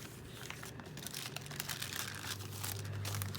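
Paper folded by hand for a nature journal, with a close, steady crinkling and rustling that rises slightly toward the end over a faint low hum.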